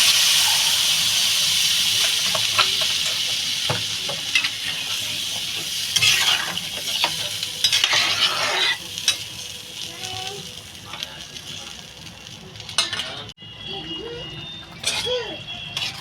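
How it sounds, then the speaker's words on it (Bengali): A potato, cauliflower and egg curry cooks in a pan after water is added, giving a continuous hissing, bubbling simmer with irregular spoon scrapes and clinks, growing softer toward the end. "দেখেন বন্ধুরা তরকারিটা আমার ফুটছে"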